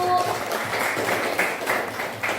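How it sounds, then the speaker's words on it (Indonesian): A classroom of students applauds group 2 during a practice teaching lesson, a steady wash of many hands clapping together at moderate, even loudness for a couple of seconds. "kasih tepuk tangan buat kelompok 2"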